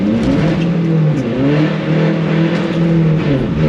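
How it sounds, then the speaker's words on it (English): Diesel car revving hard with its wheels spinning at a track, a loud, steady engine drone that rises and dips in pitch throughout, with no voices. "Oh, we weren't lying about the wheel spin."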